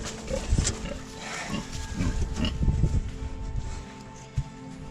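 Low snuffling grunts from a sow with gangrenous mastitis come in uneven bursts amid rustling and a steady background hum, with one sharp thump near the end.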